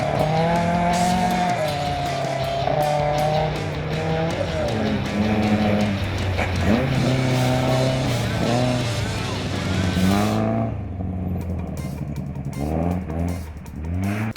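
A Toyota Corolla rally car on wet Kirup forest stages in Western Australia screams past with a high revving engine rising and falling through gear changes, loud and close, then fading away as a commentator talks over it.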